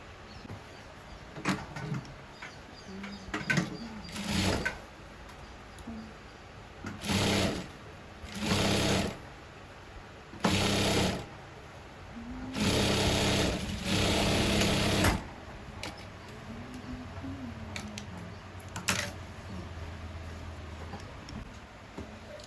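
A sewing machine stitching fabric for a sewing machine cover, running in several short loud bursts of rapid whirring, separated by quieter pauses.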